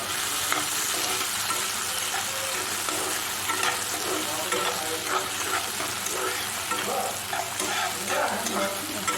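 Tomatoes frying in a little refined oil with onion in a pan, a loud continuous sizzle close by with constant scraping and stirring throughout, no talking.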